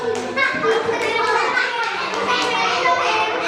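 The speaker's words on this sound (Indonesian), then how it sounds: "tepuk tangan dulu buat kelompok Darussalam" Young schoolchildren in a first-grade classroom clap for a group of classmates, an uneven patter of small hands mixed with lively children's voices and chatter.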